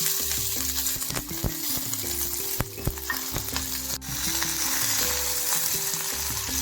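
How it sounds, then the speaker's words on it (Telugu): Cumin seeds dry-roasting in a kadai give a continuous frying crackle and sizzle throughout, with occasional stirring taps, under a steady background of instrumental music. "ఇవి ఇలా తెల్లగా వచ్చే వరకు వేయించుకుని ఒక ప్లేట్లో తీసుకోండి"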